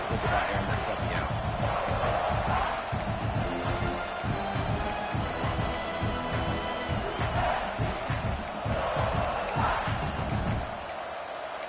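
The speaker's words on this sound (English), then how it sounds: "This crowd bringing the energy and noise early." Football stadium crowd noise: a roaring, sustained mass of voices with swells of cheering, heard alongside play-by-play commentary.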